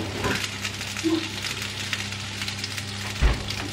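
Fish frying in a pan gives a steady close crackling sizzle with occasional louder spits and a stirring clatter, heard alone without speech.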